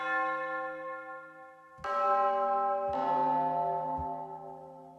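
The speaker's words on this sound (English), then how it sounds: "which is just a pretty simple tubular bell." A tubular bell patch from a Roland SRX Orchestra expansion board rings out in three clear separate strikes, each bright and metallic with a long sustained ringing decay, heard alone.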